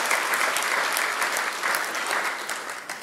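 An audience at an ICPAK accountants' annual general meeting claps together in sustained applause, many hands at once, moderately distant and fading slightly toward the end.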